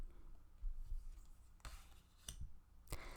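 Tarot cards are drawn and handled, giving soft scattered rustles and several brief crisp card snaps and slides, quiet and close.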